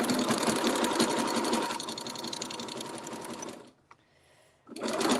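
Sewing machine stitching quilt pieces for a quilt-as-you-go project, running steadily and loudly for several seconds with a brief backstitch change, then a short pause before the motor starts up again.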